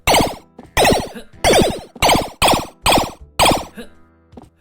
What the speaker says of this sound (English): I also added a sound effect for the energy projectile